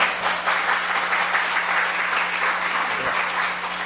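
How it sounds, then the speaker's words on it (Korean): A congregation at a Korean church ordination thanksgiving service applauds in a steady, thick wash of clapping that holds at an even level for several seconds. "박수 한번 쳐주시다"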